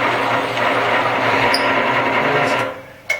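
A carbide barrel trimmer held in a clamp whirs with a steady buzzing, grinding whine, then cuts off abruptly near the end, followed by a brief click.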